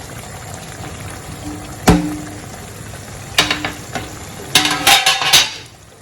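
Mixed vegetables stirred into a tilapia egg stew frying in a pot, a soft bubbling simmer broken by a few distinct bursts of clattering, scraping spoon strokes, close and moderately loud.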